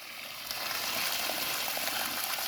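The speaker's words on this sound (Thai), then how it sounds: "น้ำไหลท่อสองนิ้วครับ" Water gushing from a two-inch pipe fed by a solar-powered piston pump driven by an alternator converted to a brushless motor, a steady close rushing flow that swells slightly after a moment.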